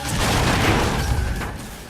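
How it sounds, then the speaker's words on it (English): A loud, dense blast from the Split/Second arcade racing game fills the whole stretch, a heavy booming roar with crackling debris that slowly fades after its peak. "I like it when an explosion pushes you across the field."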